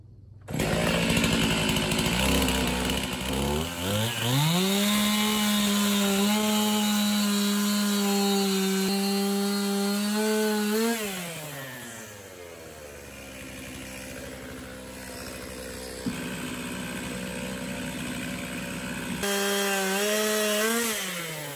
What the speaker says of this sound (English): Now the first thing I do is I cut a cookie off of each end, roughly an inch, basically squared up.